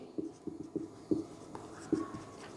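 Pen scratching on paper during a geography lesson, quiet and close, in short irregular strokes with small pauses between them as words are written by hand.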